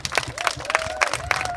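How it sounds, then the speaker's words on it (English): Audience applause fills a community awards party, a dense burst of close clapping from a crowd that continues throughout, with a voice rising over it. "Please keep clapping."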